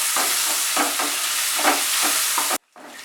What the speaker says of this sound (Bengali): তেলটা গরম হয়ে গেলে এর মধ্যে দিয়ে দিলাম কুচানো পেঁয়াজ। পেঁয়াজটাকে মাঝারি আঁচে আমি ফ্রাই করে নেব।